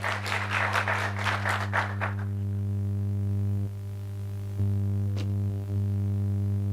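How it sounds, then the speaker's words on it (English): A brief burst of dense clapping from an audience welcoming Rachel at an innovation competition breakout session lasts about two seconds, then fades into a steady electrical hum with a single faint tap. "Let's give her a round of applause"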